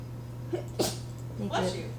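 A single person's sneeze indoors, a short sharp burst preceded by a quick intake of breath, near and clear over a low steady hum.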